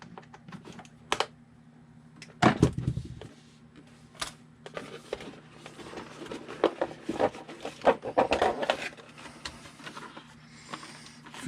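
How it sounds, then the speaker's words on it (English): Sharp plastic snips and clicks come in scattered bursts as zip ties are cut on an RC car, close up, amid handling noises and light rattling. "we need to cut some little zip ties here on the bottom."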